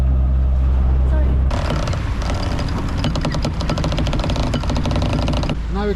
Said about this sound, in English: Now we can shut down the engine.